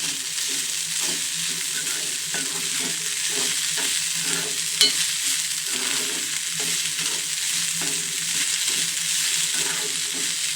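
Vegetable palya with greens and a green chilli sizzles in oil as it is stirred and mixed, a steady close frying hiss broken by regular scraping strokes of a spatula.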